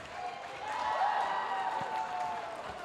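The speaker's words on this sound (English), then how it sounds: "Much applause for the squash." Applause for squash players at a university sports event, a soft, distant spread of clapping that swells slightly in the middle and holds steady, with faint voices in the background.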